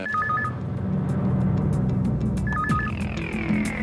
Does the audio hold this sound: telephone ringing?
yes